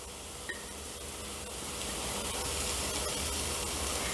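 Onions sautéing in a pan with turmeric and pepper powder for a Kerala-style mutton curry, a steady close hiss and sizzle that swells slightly and holds, with no voices.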